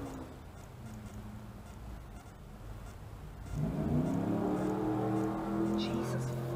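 At a busy city intersection, a car engine revs up and whines as it accelerates past, rising sharply partway through over a background of steady traffic noise, fairly distant and moderately loud.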